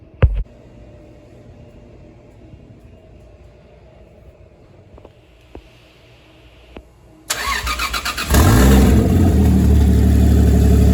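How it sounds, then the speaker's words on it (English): After a few quiet clicks, a Toyota Supra Mk4 engine cranks and fires up, then revs loudly and holds at a strong, steady roar. "let's get the car started and see how she sounds"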